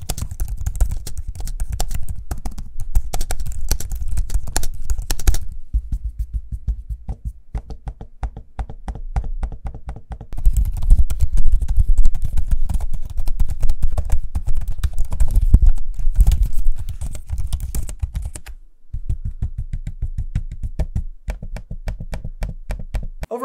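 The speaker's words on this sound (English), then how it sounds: "Here's a quick sample of me using both the keyboards and trackpads so you can hear what they sound like." Typing and trackpad clicking on HP Omen and Lenovo Legion Pro 7i laptops, a steady run of close, crisp key taps and clicks in rapid rhythm with brief pauses between bursts, no voices.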